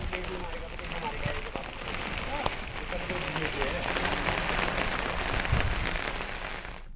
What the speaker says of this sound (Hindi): चमोली में भी लगातार बारिश जारी है